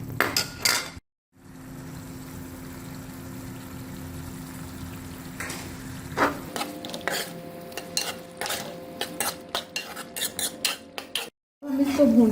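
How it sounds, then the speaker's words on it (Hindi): Beef Shinwari karahi with black pepper being roasted in a karahi: a metal spoon repeatedly scrapes and clanks against the pan over a low background sizzle, with brief pauses and no talking. "इसको कढ़ाई में डाल के फिर हम इसको भूनेंगे।"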